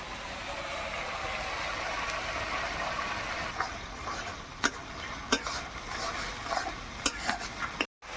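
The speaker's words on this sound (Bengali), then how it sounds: "এই অবস্থায় আমি পেঁয়াজ পেস্ট দিয়ে দিচ্ছি।" Onion paste fries with ginger, garlic and cumin in a pan, giving a steady close sizzle with intermittent sharp spatula taps and scrapes and a brief cutout just before the end.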